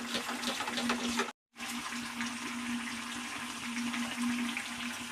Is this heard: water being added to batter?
yes